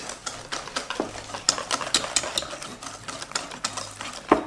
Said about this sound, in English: I'm going to whisk it properly like that.